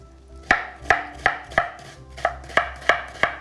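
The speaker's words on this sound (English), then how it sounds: "Meanwhile, I'm gonna chop an onion." An onion chopped on a cutting board, eight crisp knife strikes at a steady, unhurried rhythm, close and clear with nothing else heard.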